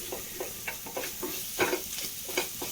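Vegetables sautéing in a small amount of oil, with a steady soft sizzle broken by a run of irregular scraping stirs of a spoon against the pan, close and fairly quiet.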